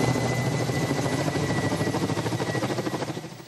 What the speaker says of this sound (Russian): Һәр 10 минут сайын мыннан вертолет ұша.